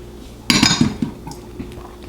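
A silicone spatula clinks and scrapes against a bowl while grape salad with sugar is stirred. A few close, clattering strokes come in quick succession, then trail off into quieter scraping.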